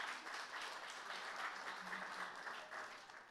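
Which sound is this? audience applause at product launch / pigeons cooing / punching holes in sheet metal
audience applause at product launch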